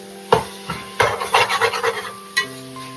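A spoon scrapes and clinks against a pan while soy chunks and masala are sautéed and stirred for a meal-maker biryani, with a series of close, rhythmic strokes and rasping scrapes and a few sharp metallic knocks.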